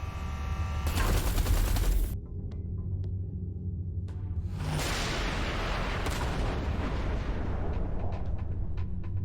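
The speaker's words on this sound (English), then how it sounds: "Watch out! The artillery!" Heavy artillery fire in the space game Everspace 2: loud booming blasts with rumbling noise, a sudden gap of near silence, then another sustained roar of explosive bursts.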